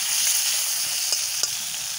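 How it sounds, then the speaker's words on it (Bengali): Turmeric-coated potatoes fry in oil in a pan, giving a steady, close sizzling hiss with a couple of soft utensil taps and no voices. "এখন আমি হলুদ দিয়ে মাখানো আলুটা আমি দিয়ে দিচ্ছি। আলুটাকে আমি প্রথমে ভেজে নিচ্ছি।"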